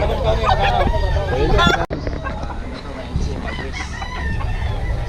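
Chickens for sale at a rainy market: a rooster crows and hens cluck close by amid a busy, noisy bustle, with people talking throughout.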